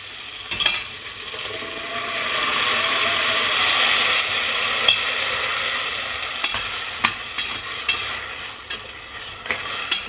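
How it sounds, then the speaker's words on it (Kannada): Ground masala paste frying with softened vegetables in a cooker gives a steady sizzle, with scattered clicks and scrapes of stirring along the way. "ಇವಾಗ ಇದನ್ನು ಸೇರಿಸಿ ಒಂದು ರೌಂಡು ಫ್ರೈ ಮಾಡೋಣ."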